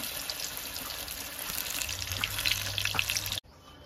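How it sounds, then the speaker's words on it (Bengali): Potatoes frying in hot oil for chicken biryani, a close, steady sizzle with small crackles that grows slightly busier before stopping abruptly near the end. "আমি এই যে আলুগুলো একটু ভেজে দেবো।"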